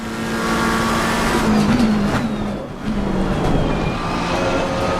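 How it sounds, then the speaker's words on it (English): A race car in the Assetto Corsa Competizione racing game brakes hard into a corner. The loud, steady engine drone dips and wavers in pitch as it slows, with no talking. "as we get to Stoke Corner, there's going to be some heavy braking"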